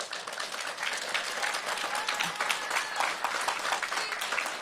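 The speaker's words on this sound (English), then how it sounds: "can we give a round of applause for everyone who worked behind here?" Audience applause at a press conference announcing an education initiative, a dense, steady crowd clapping that holds evenly throughout at moderate level.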